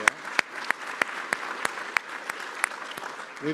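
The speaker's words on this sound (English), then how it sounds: "Give yourselves a round of applause." A conference audience claps steadily, a dense patter of applause with regular sharp accents, fairly close and sustained throughout.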